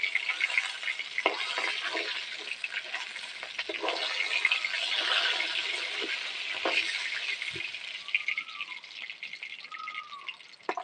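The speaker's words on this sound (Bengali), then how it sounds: "এদিকে মাছগুলো এখন ভাজবো আবার" Rohu fish frying in hot oil with a steady broadband sizzle throughout, a few sharp spatters and faint clinks, with no talk.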